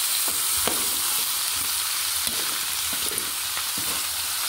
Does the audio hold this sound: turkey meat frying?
yes